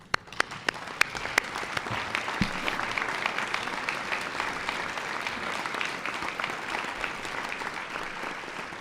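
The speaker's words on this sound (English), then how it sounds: "I'd like to invite you, graduates, to stand and give a round of applause to both parties." Audience at a university business school winter graduation ceremony applauding, a few loud individual claps at the start swelling quickly into sustained, dense clapping from a large hall crowd that carries on steadily.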